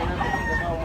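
A gamecock stag at a rooster sale in Tabunok, Cebu, gives a brief, loud crow close by.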